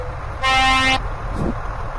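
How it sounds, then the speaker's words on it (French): A truck's horn blasts once, a loud steady honk of about half a second, heard from the cab of a long-haul lorry on the road, with a faint second toot just after. "J'ai même pas klaxonné, il a klaxonné."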